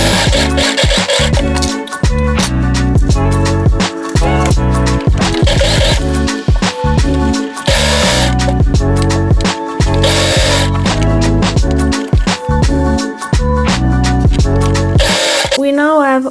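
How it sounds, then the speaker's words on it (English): A sewing machine stitching straps, a loud close mechanical whir in quick bursts with short pauses for back stitches, with music playing throughout. "We want to do a couple of stitches and then back stitches, and then we can start sewing all the strap."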